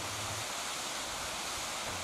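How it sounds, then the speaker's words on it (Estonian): Water spilling down a nearly 20-metre waterfall fed by a drainage ditch in Ida-Virumaa, Estonia, after stepped cascades: a steady, dense broadband rush with no let-up, close and continuous. "Pärast astanguid jätkab kraavi vesi teed kosena, mille kõrgus on peaaegu 20 meetrit."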